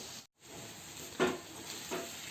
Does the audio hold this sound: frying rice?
yes